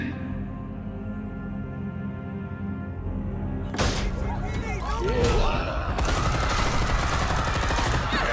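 Rapid bursts of gunfire break out abruptly partway through a scene in the Batman Telltale Series video game, loud and dense over a steady musical drone that precedes them.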